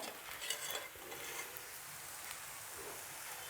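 A tomato cheese dosa made from bajji batter fries on a pan, giving a soft, steady sizzle with faint scraping near the start, quiet and continuous without speech.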